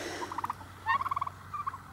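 Domestic farm turkeys gobble in short rapid bursts of warbling calls, several rattling phrases in two seconds, fairly close and clear over a quiet outdoor background.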